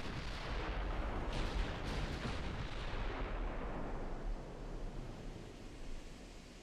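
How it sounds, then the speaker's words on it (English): Naval gun salvos from warships in Ultimate Admiral: Dreadnoughts, heard as a distant, steady rumble of broadband booming that fades slightly toward the end, with no talking. "First salvos out."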